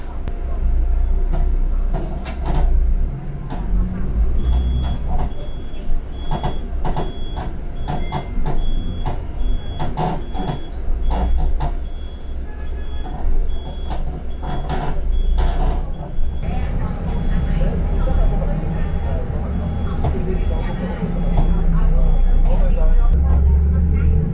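Interior of an air-conditioned bus in Cambodia in stop-and-go traffic, with a steady loud engine and road rumble, occasional rattles and a long electronic beep, while people talk throughout.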